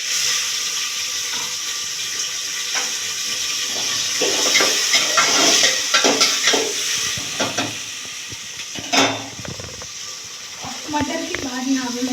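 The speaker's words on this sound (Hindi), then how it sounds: "हरी मिर्च डालने के बाद अब इसमें डाल रही हूँ मटर।" Peas tipped into a hot pan with green chillies sizzle and rattle, followed by stirring and frying noises at close range, while someone talks over the cooking.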